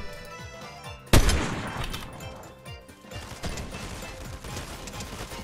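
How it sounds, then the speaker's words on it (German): A sudden loud gunshot crack followed by scattered distant shots and clatter amid busy game sound effects in Fortnite. "Ja, und da sind Schüsse sogar."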